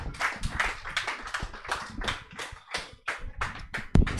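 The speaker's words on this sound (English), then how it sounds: "Let's clap for them as they leave the stage" Audience claps at a fashion workshop as presenters walk off stage, a dense patter of hand claps close by that swells and dips unevenly across the moment.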